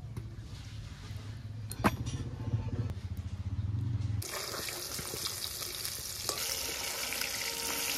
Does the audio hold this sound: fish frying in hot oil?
yes